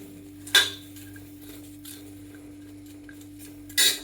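Okra pods are set onto an iron tawa to roast, bringing two bright metallic clinks a few seconds apart over quiet background hum, with no talking.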